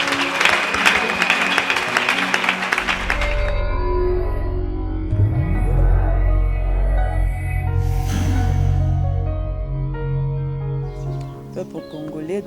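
Church congregation applauding in praise, a dense wash of clapping at the start that fades under sustained music and voices.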